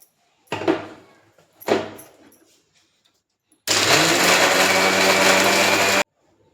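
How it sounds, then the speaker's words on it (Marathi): Two dull knocks come first, then a kitchen mixer grinds ingredients with a little water loudly and steadily for about two seconds before cutting off abruptly. "आता हे सगळं मिक्सरमध्ये टाकून बारीक करून घेते"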